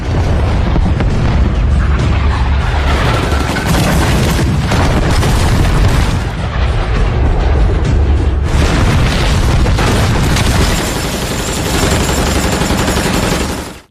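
Heavy American support artillery bombards a hillside in a war film, with loud, dense booming explosions and rumbling blasts that roll on almost without pause.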